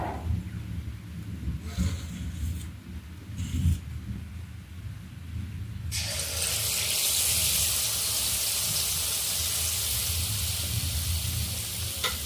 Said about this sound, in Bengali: তেলে আঁচ উঠে গেছে, এরপর আমি ভাজতে শুরু করছি